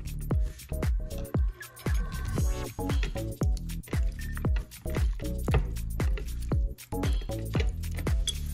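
Raw chicken being mixed by hand with sauce in a home kitchen, a series of wet squelching, sticky squishes in an irregular rhythm, close and clear, with occasional faint clinks and no talk.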